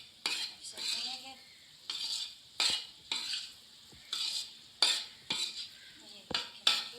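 Chana dal halwa with saffron is roasted in ghee and stirred with a spoon, a regular run of scraping strokes against the pan every half second or so over a soft sizzle.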